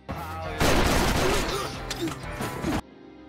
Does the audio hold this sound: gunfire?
yes